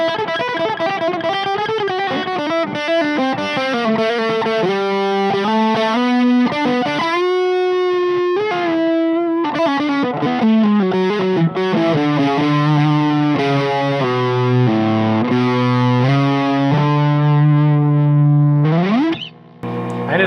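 A heavily distorted electric guitar, a Fender Deluxe Stratocaster on the bridge pickup through a Mesa Boogie amplifier, plays a continuous melodic line with sustained, saturated notes and bends, loud and up close with no pauses.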